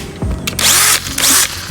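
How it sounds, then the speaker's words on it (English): A charged Bosch power drill boring holes into a car bumper on a Mazda 3, two loud close bursts of high whining motor with a short pause between, no talking. "I might drill a few extra holes."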